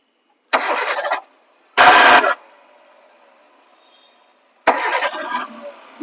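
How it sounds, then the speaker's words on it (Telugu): A 2010 Hyundai Santro car engine cranks in three bursts, the second catching briefly before a low idle fades, then a final crank; loud and close, no talk. "ఇంజన్ ఒక స్టార్ట్ ఇస్తాడు."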